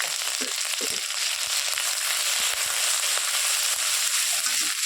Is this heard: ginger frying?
yes